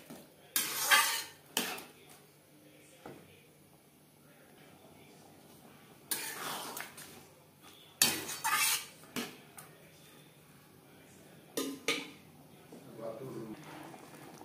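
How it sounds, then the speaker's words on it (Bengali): A utensil stirs chicken and peas in a pan in a few sharp bursts of metal scraping and clinking, with faint sizzling in the quiet gaps between them. "চিকেনের সাথে মটর বেশ ভালো করে মিক্সড করে দেবো"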